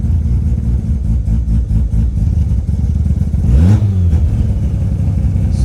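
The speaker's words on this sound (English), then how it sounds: "This car does have a BAC, so it does have a cold start." Car engine running rough just after a cold start with an idle air control valve fitted, a loud, clattery, uneven idle in a workshop, with a brief rev or pitch sweep partway through.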